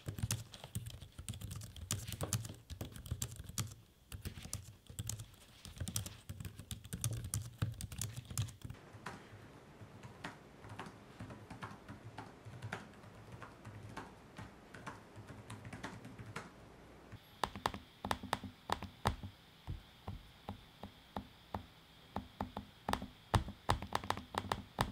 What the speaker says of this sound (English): Take a listen to each the keyboard and the trackpad in use.